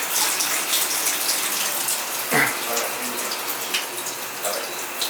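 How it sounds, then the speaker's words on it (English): Water from a leaking shower head runs and drips into a bathtub, a steady close splashing hiss with a few sharper drops standing out. "Our shower head's the problem. You know, it's dripping right there."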